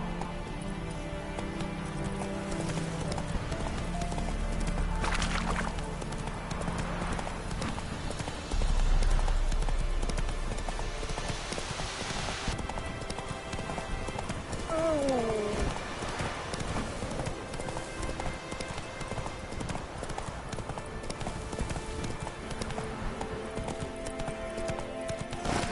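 Hoofbeats of Roach, the horse from The Witcher 3, galloping in a steady clip-clop rhythm over a game soundscape with music, with a short whinny near the middle.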